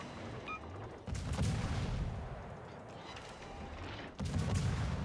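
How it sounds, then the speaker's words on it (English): Destroyer guns fire in the naval video game World of Warships, two heavy bursts of booming salvos about three seconds apart, each rolling on as a dense rumble. "I just start shooting at him."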